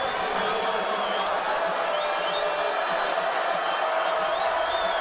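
A deafening crowd at a Greyhounds football game roars as a loud, continuous wash of cheering and shouting that never lets up.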